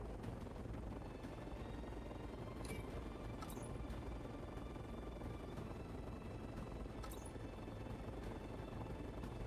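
Helicopters in the mech strategy game Mecharashi: a faint, steady rotor drone hums on continuously, with a few brief sharp clicks standing out above the low, even wash.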